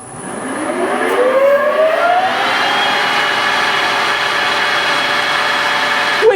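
A Warco GH1440 lathe running on a VFD spins up with a rising motor whine over about two seconds, then settles into a steady, loud hum that continues alone.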